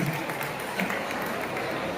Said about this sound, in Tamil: ஃபர்ஸ்ட் அவங்களுக்காக ஒரு கைத்தட்டல் கொடுத்துடலாமா?